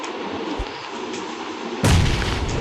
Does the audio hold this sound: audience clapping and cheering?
no